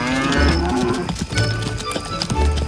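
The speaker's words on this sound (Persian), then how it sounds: "اون روز گذشت و کریشنا با همه گاوهاش به خونه برگشت" A cow at pasture lowing, with a few deep moos in steady succession, close and clear, with no talk.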